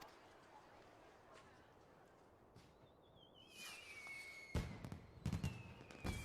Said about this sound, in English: Fireworks going off again.